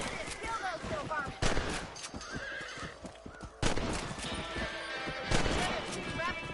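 Three loud rifle shots ring out at rabbits in Red Dead Redemption, spaced about two seconds apart, each a sharp crack with a short tail, over steady game ambience with horse whinnies and hoofbeats.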